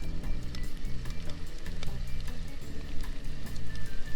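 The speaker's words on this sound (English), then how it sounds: "sizzling away nicely in there." Pork belly sizzles over coals in a hobo oven, a steady close crackle and hiss of frying fat with small pops scattered through, no talking.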